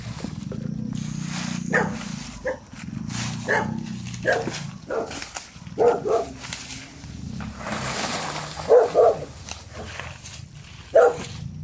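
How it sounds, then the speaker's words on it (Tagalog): A dog barks over and over in irregular, fairly close bursts, a few sharper and louder near the end, with a steady low rumble running underneath. "May aso dito."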